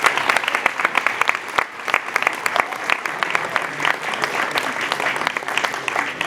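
An audience at a ceremony honoring a woman of courage gives loud, sustained applause, with crisp individual claps standing out from the steady crowd clapping.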